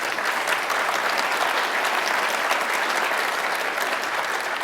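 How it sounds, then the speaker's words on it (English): A conference audience gives a steady, dense round of applause, loud and sustained throughout with no voices breaking through. "So give it a round of applause"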